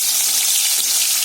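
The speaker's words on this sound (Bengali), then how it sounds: "মাছটা আমি এবারে ভেজে নেবো" Rohu fish fries in hot mustard oil, giving a loud, steady, close sizzle with bubbling crackle throughout and no voices.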